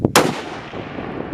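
A single sharp rifle shot fired during a big-game hunt rings out loud and close, with a faint earlier crack just before it, then a long rolling echo that decays slowly across the open country.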